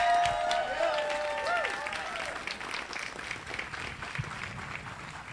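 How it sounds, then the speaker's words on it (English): An audience applauds a taiko drummer named Kota at a taiko festival, with dense clapping and a few cheers and whistles at the start that gradually thin out and fade, under light talk. "Another round of applause for Kota."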